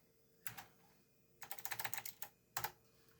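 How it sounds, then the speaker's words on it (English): A clicky Northgate OmniKey computer keyboard is typed on beside a 486DX4-100 PC, giving a few short bursts of crisp, sharp keystrokes with pauses between, close and fairly quiet. "I'm using my Northgate OmniKey keyboard here because I like it. Nice clicky keyboard."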